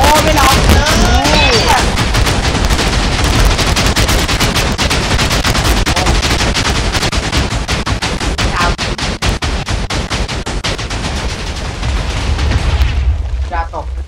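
Thousands of TNT blocks detonate among a zombie horde in Minecraft, a loud, dense and nonstop barrage of overlapping booms and crackling blasts that thins out and fades near the end.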